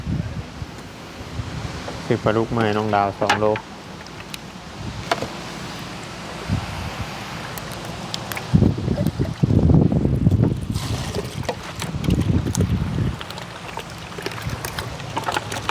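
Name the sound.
strong dry wind during winter storm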